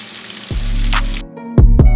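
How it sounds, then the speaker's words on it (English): Cod nuggets frying in oil: oil sizzles and crackles loudly up close, with a steady frying hiss interrupted by a few sharp clunks and clatters. "We'll speed the video up here as we're just frying them"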